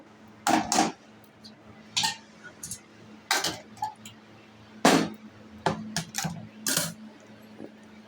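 Metal cooking pot of semiya being lifted off a stove, a series of sharp metallic clanks and clinks spaced irregularly, close and fairly loud against a faint background hum.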